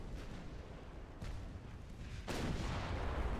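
Battleship guns firing in a naval video game: a low, rumbling barrage heard at a distance, with a sharper salvo about two-thirds through that raises and sustains the roar.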